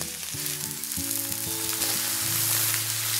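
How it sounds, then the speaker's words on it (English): Skin-side-down food sizzles and spits in a hot grill pan, a dense, steady hiss close at hand that runs throughout, with faint music playing underneath. "I'm going to put this skin side down first. Make sure your grill pan is hot."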